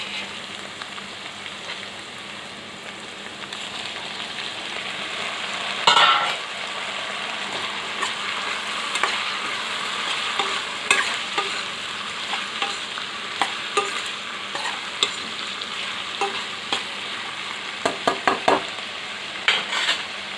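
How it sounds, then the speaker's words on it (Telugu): Tomatoes sizzle and fry in a pan for a broad bean curry, with a utensil stirring and scraping through them in repeated bursts over a steady close frying hiss; no talk. "మూత తీసి మధ్యలో ఈ విధంగా కలుపుకోవాలండి"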